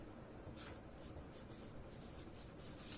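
Pen or pencil writing the word 'they' on paper, a steady soft scratching and rubbing with short strokes, faint and close, with no voices.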